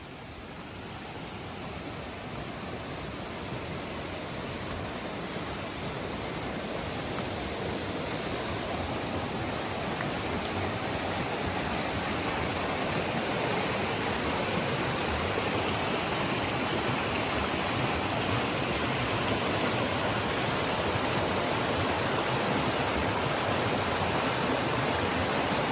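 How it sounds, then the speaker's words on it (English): Fast-moving creek water along the Appalachian Trail rushes in a loud, steady, close roar of broadband noise that holds evenly throughout, with no voices. "my shoes are wet anyway, but this water's moving pretty quick"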